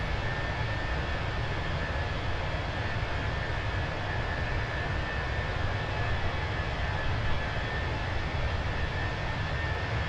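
Steady broadband roar of a Fenix A320 airliner's jet engines during takeoff in Microsoft Flight Simulator, a constant loud rumble with a faint whine holding evenly throughout with no talk.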